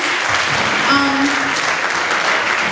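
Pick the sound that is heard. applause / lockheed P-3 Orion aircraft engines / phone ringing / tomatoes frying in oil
applause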